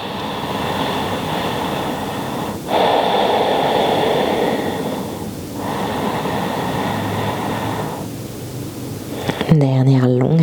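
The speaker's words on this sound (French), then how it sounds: "Dernière longue respiration." Slow, deep yoga breaths during a guided womb-honouring practice, several long airy inhales and exhales flowing one after another, close and fairly loud, before a voice begins speaking at the end.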